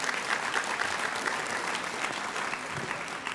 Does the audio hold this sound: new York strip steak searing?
no